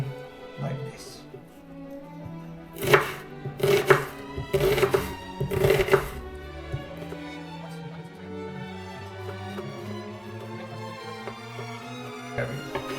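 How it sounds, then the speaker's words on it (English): A knife chops vegetables into big chunks for a vegetarian potato and tarragon soup, with a short burst of four or five firm cuts on a board near the middle, and quieter handling noise around them. "Cut it on bigger chunks, no problem at all"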